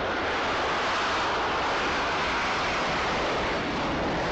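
A Sukhoi Su-57 fighter jet taking off at an air show, a loud, steady broadband roar with no breaks, without voices.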